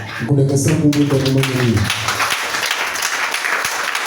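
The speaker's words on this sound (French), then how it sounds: "Je veux que quelqu'un acclame." A church congregation claps and applauds during a sermon, breaking out in a broad, sustained wash of clapping right after a preacher's raised voice, close and lively.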